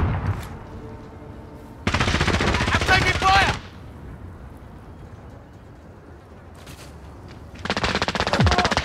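Gunfire in Call of Duty: Modern Warfare comes in two loud automatic bursts, each lasting roughly a second or two, with quieter game ambience and faint distant shots in between.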